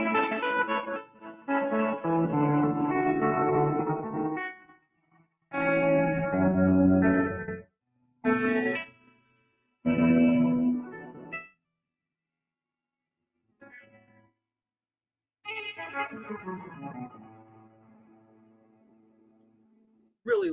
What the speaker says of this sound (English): Really lush sounding reverb there.